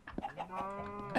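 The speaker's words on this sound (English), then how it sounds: "They're chickens." Chickens in the Minecraft video game give a few short clucking calls in close succession, near and clear with no talk over them, ending in a brief louder squawk.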